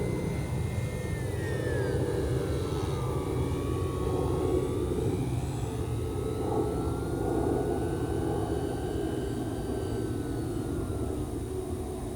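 An E-Flite P-51D Mustang 1.0m electric RC model airplane flies past outdoors, its steady motor and propeller whine rising and falling in pitch over a continuous windy rumble.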